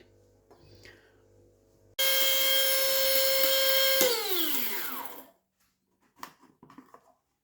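An electric spice grinder runs for about three seconds on whole spices for garam masala, including nutmeg and mace: a loud, steady whirring drone that winds down as the motor stops, followed by faint clinks.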